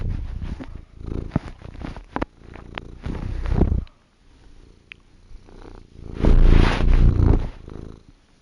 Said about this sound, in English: All of a sudden, that's a cat sound.